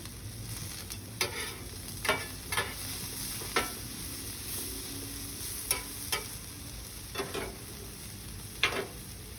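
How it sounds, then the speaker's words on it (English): Fish fries in coconut oil on a flat griddle, a quiet steady sizzle broken by about a dozen short scraping or stirring clicks from a utensil, spaced irregularly, with no talking. "My fish is sticking to the bottom, so I'm going to put a little more of coconut oil."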